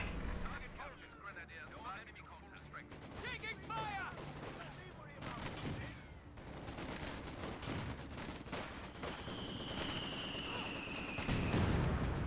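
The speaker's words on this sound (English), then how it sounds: "Great mortar hits, getting a severe amount of wounding." Mortar shells slam down in a Company of Heroes 2 battle, a run of heavy broadband blasts and crackling impacts under continuous rumbling gunfire, with voices talking over the noise.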